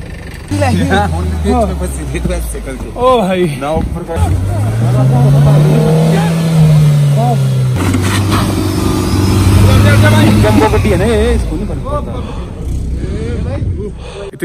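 A Mahindra Thar 4x4 stuck in heavy snow in Manali, its engine revving loudly and rising and falling in long sustained pulls, with excited voices talking over it throughout.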